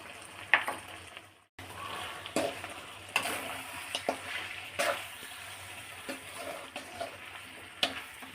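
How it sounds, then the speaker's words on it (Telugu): Chicken roasting with masala, pepper and cumin powder in a pan; a soft, continuous sizzle with occasional stirring clinks and scrapes, fairly quiet and close. "ఇప్పుడు బాగా రోస్ట్ చేసుకోవాలండి ఈ చికెను. ఈ మసాలా కొంచెంసేపు వేయించుకోవాలి బాగా."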